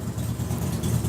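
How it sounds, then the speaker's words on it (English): A motorcycle engine runs outdoors as its rider gets ready to set off on an evening ride in Iowa, a continuous low throbbing idle with slight rises in level, heard from nearby through an open door. "Someone's about ready to take off for an evening ride."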